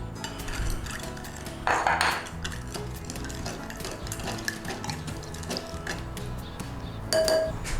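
Stir-fry sauce stirred in a bowl, heard as repeated clinks and scrapes of utensil against the bowl, with a few sharper clinks and a ringing ping standing out.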